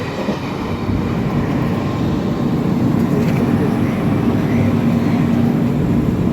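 Train 12863 on the Howrah to Katpadi run, halted at a small station, gives off a steady low rumble and hum that holds at an even, fairly loud level throughout, with no talk over it.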